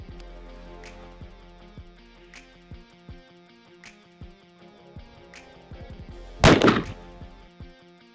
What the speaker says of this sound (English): Take one shot into the gel, see how it looks.